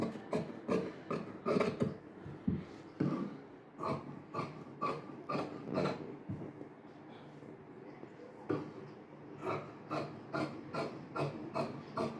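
Scissors cut through cloth for tailoring, a waist-measurement-based pattern, with repeated crisp snipping and rasping strokes close up, steady rhythmic bursts with brief pauses, and no talk over them.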